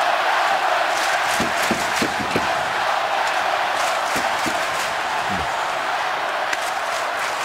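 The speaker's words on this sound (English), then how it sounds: "This crowd alive." Detroit hockey arena crowd during a Penguins at Red Wings game, a loud continuous roar of cheering with sharp thuds and bangs cutting through now and then, heard from within the stands.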